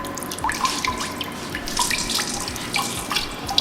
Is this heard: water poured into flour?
yes